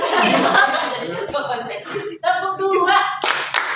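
A group claps hands in rhythm in a counted clapping game led by an instructor, with voices talking and chuckling over the claps throughout.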